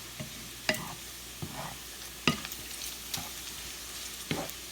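Onions frying and being stirred in a pan for BBQ string beans with bacon: several sharp, scraping utensil strokes come at uneven intervals over a quiet, steady background sizzle. No talking.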